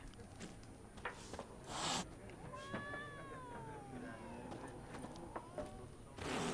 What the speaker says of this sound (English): That cat sounds angry.